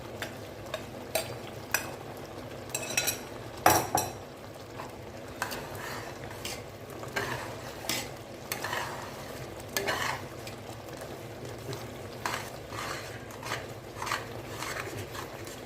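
Thick vatha kuzhambu premix mixture is stirred in a pan, a spoon scraping and tapping the metal in irregular strokes over a faint, steady sizzle, fairly quiet and close.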